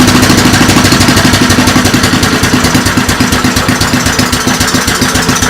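Vintage Kohler Command Pro 8 HP engine running loud and close, with a fast, even chugging pulse and a rattly mechanical clatter that holds steady the whole time.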